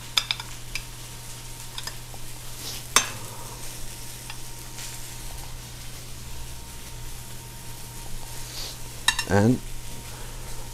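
A marinated filet searing in a preheated pan produces a soft, steady sizzle under low background hum, with a few sharp utensil clicks and a brief louder burst of scraping near the end; a voice speaks a word.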